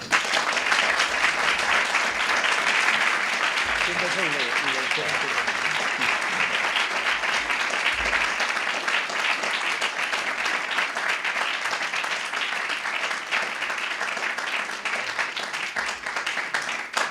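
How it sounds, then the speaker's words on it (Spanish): Warm, sustained applause from an audience greeting Father Santiago Cantera at a Catholic talk, a steady even roar of many hands that holds for the whole stretch, with some murmured voices underneath. "dar la bienvenida al padre Santiago Cantera, del que pido un caluroso aplauso"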